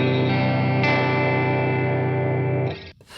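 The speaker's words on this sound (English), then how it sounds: "if I speed up the depth now, we almost get like a ring modulation effect." A guitar played through a Boss Katana amp with chorus at high rate and depth sustains a thick, warbling, metallic tone like ring modulation, loud and steady, with a second strike near the end before it cuts off.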